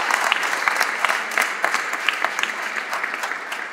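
Audience applause at an aeronautics museum inauguration for Henry Fabre's Canard seaplane, honouring a team of volunteers: a steady, dense wash of many hands clapping at moderate level, with sharper individual claps popping through, no speech.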